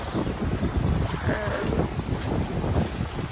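Waves wash in steadily on a shore, mixed with gusty wind buffeting the microphone, no voices.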